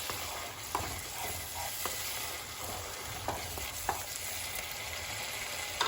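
Egg bhurji masala gravy bubbles and fries in oil with steady sizzling, while a spoon stirs it in scattered scraping clicks, close and moderately loud with no talking.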